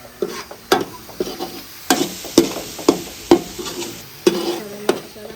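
Masala stirred and roasted in a pan on a village kitchen stove: a soft sizzle underneath rhythmic scraping strokes, roughly one or two per second, close and moderately loud, with no talk.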